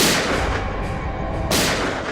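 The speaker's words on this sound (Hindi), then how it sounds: "ये गोलियों की आवाज।" Loud gunfire rings out in a TV crime drama scene set in a Mumbai slum, with two sharp, booming shots about a second and a half apart, each trailing into a noisy rumble.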